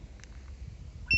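A StarLine A63 Eco car alarm arming, giving a short, sharp electronic beep near the end after a stretch of quiet background hum.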